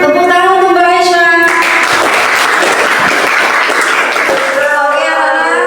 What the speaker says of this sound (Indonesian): Tepuk tangan untuk Mbak Aisyah.